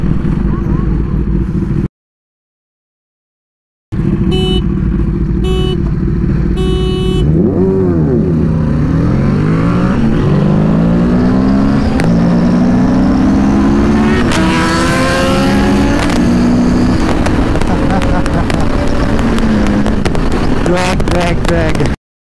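Kawasaki Ninja ZX-10R motorcycles drag racing on a road near Bagda Sea Beach, engines revving hard through rising and falling gear sweeps, loud and close, with a brief dropout early on.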